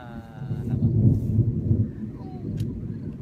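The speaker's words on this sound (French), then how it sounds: "Ça gronde. C'est le tonnerre" Thunder from a May 2016 storm in Languedoc rolls in as a low, distant rumble that swells for a couple of seconds and then fades into a quieter background.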